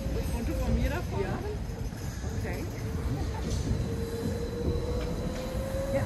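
San Francisco cable car pulling away on a run between Polk Street and Fillmore Street, a steady low rumble and rail noise with a faint squeal, with people talking nearby throughout.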